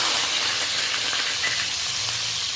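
Grated onion hitting hot oil with a black cumin tempering sends up a loud, dense, hissing sizzle that stays steady and close for the whole stretch.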